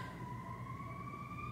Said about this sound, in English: It's always sirens out here.